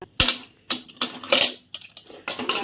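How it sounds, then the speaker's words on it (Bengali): A metal lid goes onto a pot of mutton with several sharp clanks and rattles, loud and close, separated by short pauses. "এখন লাগিয়ে দেবো ঢাকনা"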